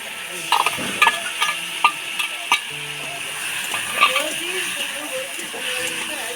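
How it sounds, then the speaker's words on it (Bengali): Potatoes and tomatoes frying in a pan, a steady sizzle with sharp clicks and scrapes as the food is stirred, while a person talks over it. "আলুর সঙ্গে টমেটোটা ভালো করে ভেজে নেব"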